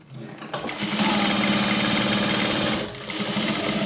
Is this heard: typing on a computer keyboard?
no